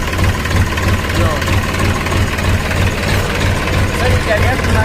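A tractor engine runs steadily at close range on a farm field set for 12-bigha harrowing work, a continuous low throbbing idle with knocking pulses and no break across the whole span, while nearby voices are faintly heard.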